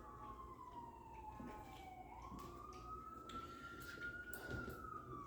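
Police car siren passes outside a home, its wailing tone slowly falling and then rising again, faint and distant but steady, heard from indoors over low background rumble.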